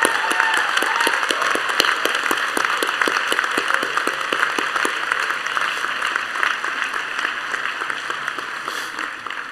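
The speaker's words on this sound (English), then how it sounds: "You deserve a big round of applause." A crowd at a West Chester University winter commencement applauds faculty, a broad, steady applause with distinct nearby claps standing out early, then settling into an even wash that gradually thins.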